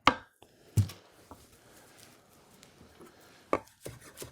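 Fresh cilantro given a rough chop with a kitchen knife on a cutting board: a few sparse, quiet knocks of the blade on the board with long gaps, faint and close, in a quiet kitchen.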